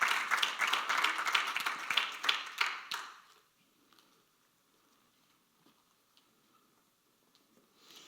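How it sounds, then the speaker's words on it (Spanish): A burst of clapping from a church congregation for about three seconds, then it dies away into near silence with faint scattered taps. "Denle un aplauso al Señor"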